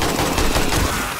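Dense gunfire in the zombie survival game 7 Days to Die, Alpha 21, shooting into a crowd of zombies: a continuous loud burst of rapid shots lasting the whole moment, no talk over it.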